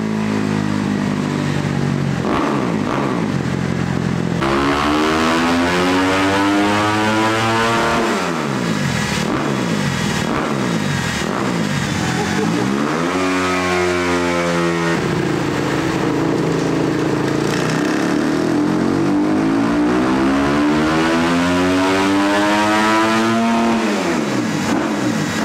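A Kawasaki 250 KXF dirt bike engine with an HGS exhaust line and GET control unit revs hard on a dynamometer, pitch sweeping up and down through repeated throttle blips and long pulls, loud and close throughout.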